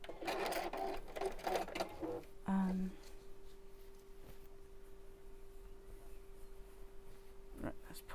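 A home sewing machine stitches a bag's outer and lining pieces, a quick run of motor whir and needle clatter over the first couple of seconds, close and fairly loud, then fading to quiet room tone with a faint steady hum.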